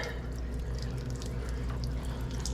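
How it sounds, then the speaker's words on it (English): Cold water trickles from the drain valve of a water heater while it is being flushed, a faint steady flow with soft dripping accents over a low hum, no voices. "still a little bit water flowing through there"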